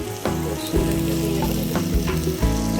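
Small gura fish fry in a pan with a steady, close sizzle throughout, under a tonal background layer that runs the whole time.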